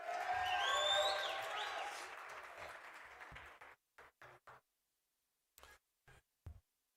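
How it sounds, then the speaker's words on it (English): Applause from a debate audience swells loudly for about three seconds and then fades out, followed by a few sparse, separate knocks and clicks in a quiet room. "please give a warm round of applause to the Leader of Opposition"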